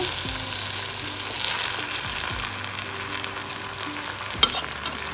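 Masoori rice lightly frying in a pan for a button mushroom pulao, a steady close sizzle broken by repeated scraping stirs and one sharp knock, with no talking.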